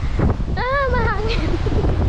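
Wind buffets the microphone with a steady low rumble throughout on a Boracay beach, while a voice speaks briefly in the middle.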